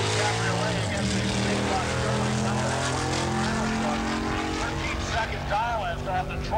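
A 1932 Ford Cabriolet hot rod powered by a 500 cubic inch Cadillac engine drag racing at a nostalgia drag meet, a loud continuous engine roar filling the whole stretch with pitch rising as it accelerates.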